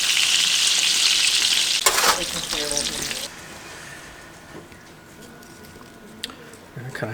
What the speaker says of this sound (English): We're just going to let those sear for about a minute and a half on medium-high heat until it gets like a little crust.